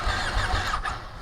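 A Ducati Panigale motorcycle engine cranks and catches, and a close, loud mechanical churn and rumble carries throughout without any break.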